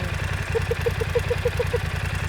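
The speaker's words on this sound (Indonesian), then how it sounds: "Suaranya tuh terdengar ngebas di bagian knalpotnya, tapi di bagian mesin ini ada semacam suara yang" A BMW 900 cc naked motorcycle engine idles steadily with a low, bassy, pulsing exhaust rumble and a faint, slightly rough rhythmic mechanical ticking on top.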